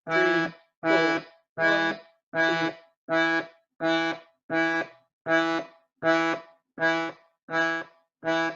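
A reed instrument, like a melodeon, plays twelve short detached chords in a steady even rhythm, each clipped off with a brief silence before the next.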